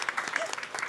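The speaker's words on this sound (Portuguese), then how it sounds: "Palmas!" A short burst of audience applause, steady clapping from a small crowd heard fairly close and moderately loud.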